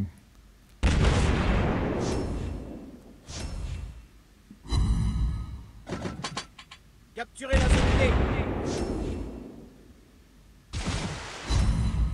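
Naval shell fire in the World of Warships Blitz game, heard from a player's Ognevoy destroyer: several loud, heavy booming salvos in separate bursts with rumbling tails, broken by shorter crackling shots and quieter gaps.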